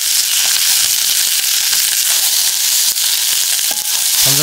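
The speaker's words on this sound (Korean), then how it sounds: "중약불에 냄비 올려서 고소한 참기름 2스푼 두르고 양파를 넣고 골고루 볶아주세요" Onions stir-frying in sesame oil in a pot over medium-low heat, a loud, dense, steady sizzle with crackling pops and occasional stirring scrapes, close up and without talk.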